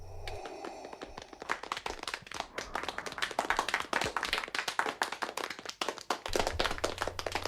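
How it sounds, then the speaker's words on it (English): Audience applause in a studio crowd, a dense patter of clapping hands that builds and holds steady at moderate loudness, with no talking over it. "So let's give him a quick round of applause."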